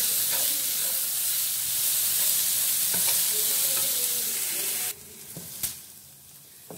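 Spring roll filling with a little salt sizzling loudly in a pan as it is stirred, a strong hiss with several spoon scrapes, then dropping abruptly to a quieter sizzle with a clank near the end.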